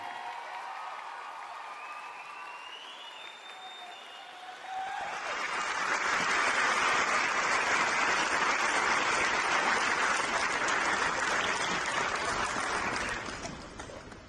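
Audience applause at the Haskell Indian Nations University 2024 commencement, following a graduate's speech; quieter at first, then swelling into broad, sustained clapping from a large crowd that carries on for several seconds before easing slightly.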